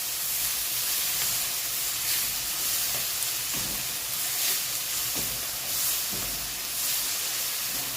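Egg fried rice seasoned with MSG sizzles and hisses steadily in a hot pan, a dense, continuous frying crackle with occasional soft stirring scrapes and no talking.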